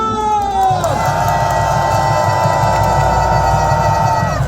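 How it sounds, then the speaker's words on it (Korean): A large street crowd at a political rally cheers in victory after a unanimous court ruling, a loud sustained roar of voices over booming amplified music with a strong beat. "8대0 만장일치 승리함성 시작"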